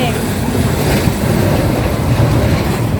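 Steady loud rumble of passing vehicles close by, a continuous roar of traffic noise throughout.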